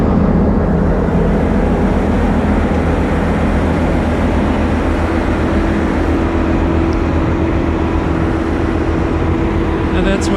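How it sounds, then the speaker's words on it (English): A train engine of the Reading Blue Mountain & Northern line idles in Jim Thorpe, Pennsylvania, its steady low rumble and hum running close and loud the whole time. "Now that's what a train engine should look like."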